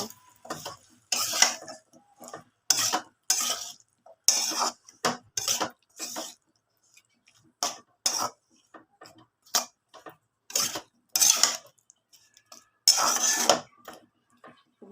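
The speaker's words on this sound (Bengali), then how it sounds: "এর ভিতরে দিয়ে ভালো করে আবার একটু মশলাটা আমি কষিয়ে নেব" A metal spoon scrapes and clanks against a pan as spice paste with potato and tomato is stirred and sautéed, in irregular bursts of knocking and scraping separated by short pauses.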